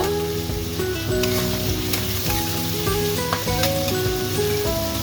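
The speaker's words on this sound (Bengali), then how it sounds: "ভেজে নিচ্ছি" Chopped onions frying in a pan for a mutton curry cooked without garam masala: a loud, dense, continuous sizzle and crackle, close up and steady throughout, with no talking.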